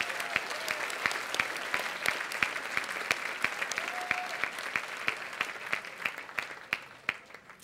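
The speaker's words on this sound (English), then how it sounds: "Let's give them a big round of applause too." An audience at a literary gala claps in a dense burst of applause that slowly thins and fades out toward the end.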